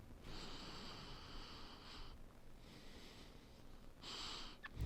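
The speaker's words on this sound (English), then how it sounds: "And hold on, one more sniff." Close, quiet sniffs at a Mizuno Neo Vista 2 running shoe, three separate breathy bursts of inhaling with short pauses between them and no talking.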